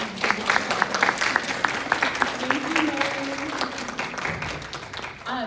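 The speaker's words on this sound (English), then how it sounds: "So a round of applause for our brilliant" An audience applauds a suspense panel at the Midwest Bookish Fest; sharp individual claps rise into steady applause, while someone speaks briefly over it before the clapping tapers off.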